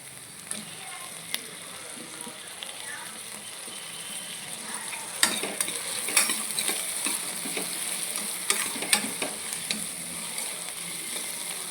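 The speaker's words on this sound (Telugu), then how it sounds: "ఇప్పుడు టమాటాలు వేసుకోవాలండి" Tomatoes hit hot oil in a pan of spiny gourd curry and fry with a steady close sizzle, while sharp scrapes and clicks of a stirring spoon sound at intervals.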